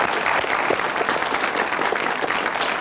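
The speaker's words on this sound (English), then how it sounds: "A very sporting applause from Eric." A game show studio audience claps in steady, dense applause from start to finish, moderately loud with no speech on top.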